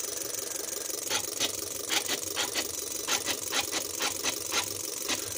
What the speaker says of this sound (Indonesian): Nah, ini kita main di RPM 700 RPM ya.